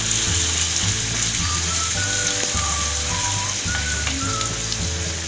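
Garlic, ginger and chili frying with browned onions in a pan for dal makhani, giving a steady close sizzle that holds throughout, with faint light clinks over a low background hum.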